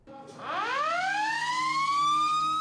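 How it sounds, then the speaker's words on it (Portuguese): A siren winds up from a low growl into a loud, steady wail that holds and rises slightly, sounding alone without talk. "Ao primeiro soar da sirene, lá estão eles apostos para atuar."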